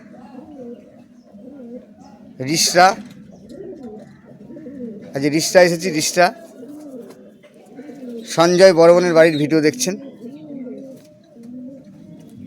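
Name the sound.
pigeons cooing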